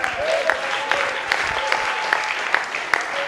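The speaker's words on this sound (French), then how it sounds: "Est-ce qu'on peut acclamer pour les pasteurs?" A church congregation applauds for the pastors, a steady, dense clapping that holds at an even level throughout without a break.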